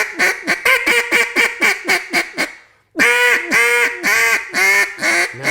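Duck call blown to imitate a drawn-out quack, a rapid series of loud, close, nasal quacks, a short pause, then another run of longer stretched quacks.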